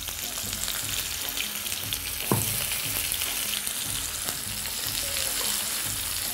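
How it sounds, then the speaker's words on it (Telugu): Carrots and red chillies fry in a pan for aviri vadalu, with a dense steady sizzle, occasional stirring clatter and a brief sharp knock near the start. "ఆ క్యారెట్లు పండు మిరపకాయలు కూడా బాగా వేగాలి"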